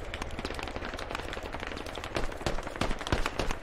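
Rapid bursts of video game gunfire crackle continuously at moderate distance, sharp repeated shots growing denser and louder in the final second, no voices over them.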